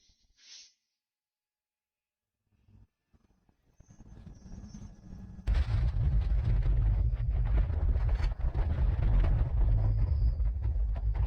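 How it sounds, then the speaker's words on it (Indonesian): A mountain volcano erupts in a sudden explosive blast that gives way to a loud, continuous deep rumbling roar after near-silence. "Gunung ini benar-benar meledak."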